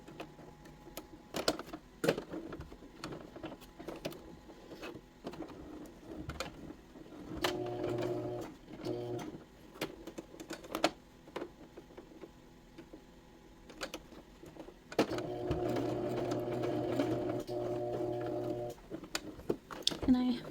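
A sewing machine stitches a small clutch bag in short runs, each burst a steady whirring hum lasting a second or two, with a longer run near the end, broken by clicks and handling between stitches.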